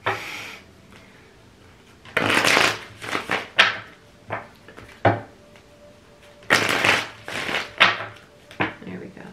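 Tarot cards being shuffled up close in two longer riffling bursts separated by scattered taps and knocks of the deck, with short quiet gaps between.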